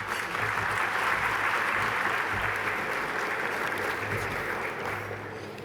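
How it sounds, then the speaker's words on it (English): Steady, full applause from an audience fills a hall at an education awards presentation, holding strong for several seconds before beginning to taper at the end. "Please give Brad a round of applause."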